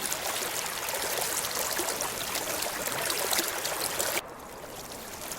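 A small stream in Munnar rushes like a waterfall, giving a dense, steady hiss of flowing water close by that drops suddenly to a softer, duller flow for the last second.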